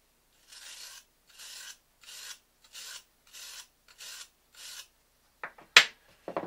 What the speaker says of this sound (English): deburr both the comb and the cutter with the bronze brush